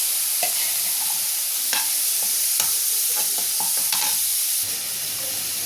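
Green chillies and curry leaves fry with onions in a pan for a Tamil dish, giving a steady close sizzling hiss broken by several sharp clinks of stirring throughout.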